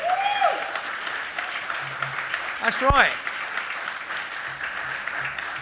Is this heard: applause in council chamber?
yes